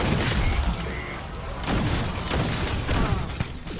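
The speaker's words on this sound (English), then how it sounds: "I love the sound that that Shattered Blast is doing. It's like little tiny fireworks, almost like the poppets." Rapid crackling pops from the Shattered Blast weapon effect in Black Ops 6 Zombies sound like tiny fireworks. Dense bursts and booms overlap through the whole stretch, loud and busy, with no talk.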